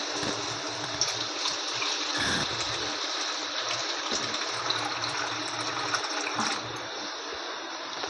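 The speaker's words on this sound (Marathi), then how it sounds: "मी पाणी थोडं जास्त टाकलं कारण की ते शिजायला हवं आहे म्हणून" Water gushes steadily into a pot of country tuber and radish vegetable curry being cooked, a continuous broadband rush lasting about eight seconds that eases slightly near the end, with no talking.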